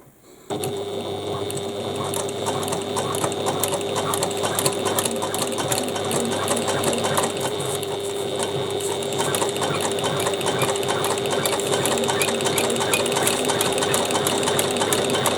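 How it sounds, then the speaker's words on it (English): A sewing machine runs steadily and close up, stitching a bag seam from the top down to the gusset with a continuous fast mechanical whir and rattle, uninterrupted and without talk. "The final part we have to sew is from the top of the bag down to the gusset."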